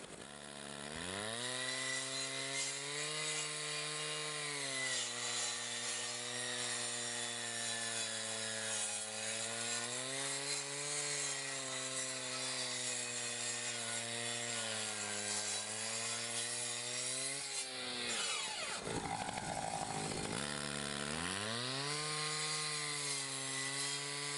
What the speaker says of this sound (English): crews cut ventilation holes using the techniques just discussed, rolling rafters, stopping the blade before the next cut